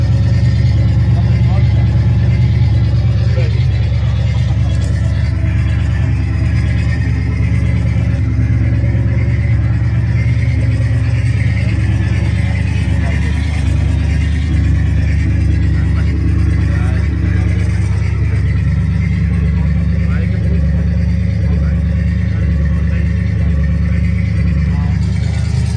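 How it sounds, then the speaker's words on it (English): A wooden car's engine drones loud and steady through its exhaust for a long stretch, with the note shifting slightly in pitch. People talk over it now and then. "Wat een geluid, hè? Allemaal uit die uitlader."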